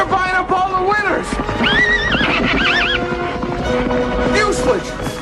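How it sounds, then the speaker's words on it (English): Horses at a horse race neigh and whinny loudly and close by in repeated rising, wavering calls, with hoof clip-clops and people talking underneath. "he and Don enter a horse race, then he psychs out the other horses"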